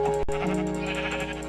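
Sheep bleating in Minecraft, a steady sustained bleat filling the short clip, loud and close, with a sharp click near the start and no talking.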